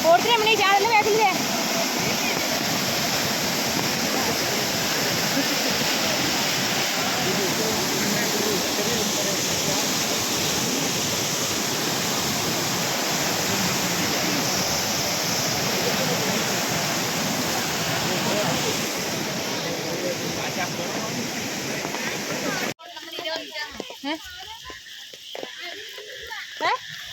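A river near Kottiyoor temple flows with a steady, loud rushing roar for most of the stretch before dropping away abruptly near the end.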